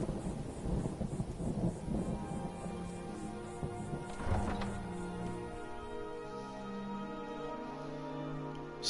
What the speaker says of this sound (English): Storms are rumbling.